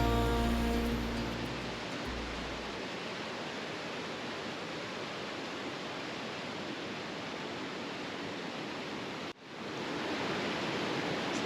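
Rushing river water at New River Gorge in West Virginia, a loud, steady broadband roar filling the clip with a brief dip near the end, no talk audible.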